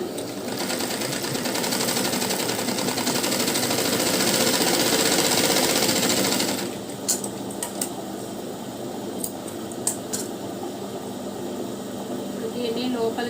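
Sewing machine stitching a lined blouse, a loud continuous rapid whir for about six seconds, then it stops, leaving quieter handling clicks and faint rustling.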